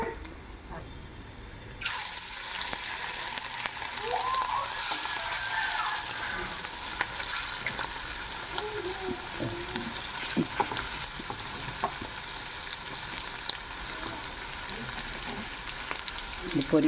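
Garlic sizzles in hot oil in a pan, a steady bright frying hiss that starts abruptly about two seconds in and holds loud and close to the end.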